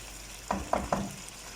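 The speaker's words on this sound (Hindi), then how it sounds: "तो चलिए जी, अब हम इसे 5 मिनट भून लेंगे।" Chicken fries in a kadhai as a spoon stirs it, three quick scraping strokes against the pan over a soft steady sizzle, close by and with no talking.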